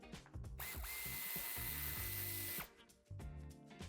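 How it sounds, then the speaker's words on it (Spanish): Power drill backing screws out of a plastic interior panel in a Volkswagen California T7 Multivan, several short whirring bursts and one sustained rising whine, close and clear with brief pauses between. "Quitaremos los tornillos que la sujetan."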